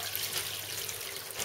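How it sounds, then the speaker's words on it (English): A hot water faucet turned all the way to hot runs at a water heater during salt replacement, giving a steady, close, moderately loud rush of flowing water with no speech. "the next step is to turn the hot water faucet on"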